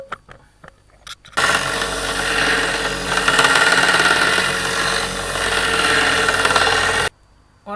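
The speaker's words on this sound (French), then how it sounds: "on viendra finir les bords à la ponceuse à bande" A belt sander finishes the edges of a small homemade steel knife, running with a steady, loud abrasive roar for several seconds between brief quiet gaps with faint clicks before and after.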